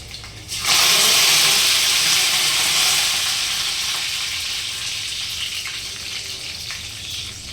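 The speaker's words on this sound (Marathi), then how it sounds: "आता आपण लसूण टाकून घेऊया तेल खूप तापलेलं आहे" Garlic hits very hot oil with a sudden loud sizzle that stays strong and steady, easing only slightly as it keeps crackling in the pan, close up with no voices.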